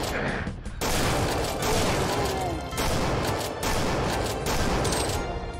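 Rapid, dense weapon fire from a Roblox Doom clone game, loud continuous bursts of shots and booms running nearly nonstop with short breaks.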